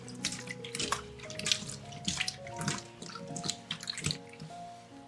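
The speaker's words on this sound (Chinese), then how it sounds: "换水后倒入清水抓洗干净" Kumquats are rinsed and rubbed clean by hand in a bowl of water, giving soft, repeated splashes and drips in an irregular rhythm, close and fairly quiet with no talking.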